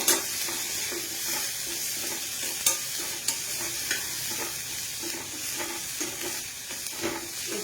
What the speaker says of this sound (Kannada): ಇದು ಚೆನ್ನಾಗಿ ಫ್ರೈ ಆಗಿದೆ.